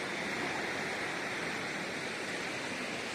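Steady, broadband rush of the Muchkundi river flowing fills the whole clip, constant and fairly close, with no voices or other sounds breaking through.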